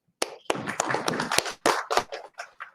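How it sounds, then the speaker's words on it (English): A small scattering of hands clapping, sparse and uneven with distinct close slaps that thin out and fade toward the end, heard alone without talk. "I want to have everybody that's still here with us give yourselves a round of applause"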